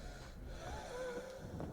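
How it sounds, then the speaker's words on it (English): A monster in a horror video game wheezes and gasps in a low, strained, rasping breath, a faint drawn-out snorting groan with a rising whine in the middle. "The wheezing, gasping, breathing thing."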